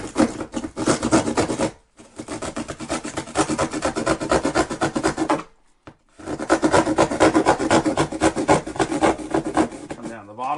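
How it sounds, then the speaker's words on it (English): A small oscillating multi-tool saw cuts through thin wall paneling in a mobile home, making a loud buzzing rasp in three long bursts split by brief pauses. "Just going to use this little saw right here. Cut this out. It's just a little multi-tool."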